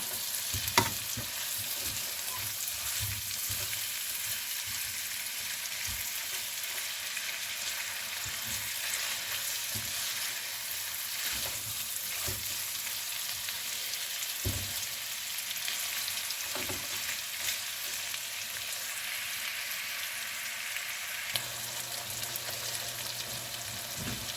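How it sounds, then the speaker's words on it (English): Mild sausage frying in a pan alongside red potatoes and onions, a steady close sizzle running throughout with occasional soft clicks and scrapes, no voices. "our sausage is starting to cook up pretty good here"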